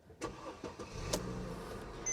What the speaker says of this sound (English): And now we can crank the car.